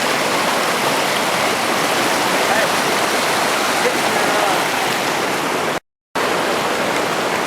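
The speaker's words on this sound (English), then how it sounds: "we're fixing to cross the creek" Steady, full rushing of a creek flowing over rocks on a wilderness backpacking trip, close and continuous with no talk, broken only by a brief dropout near the end.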